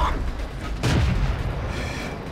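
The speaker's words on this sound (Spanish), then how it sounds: "Ese disparo debería haber impactado, pero ha ido bajo" A single deep tank cannon blast in World of Tanks, fired from an M10 Wolverine tank destroyer, loud and close with a heavy boom and a rumbling tail that fades over a couple of seconds.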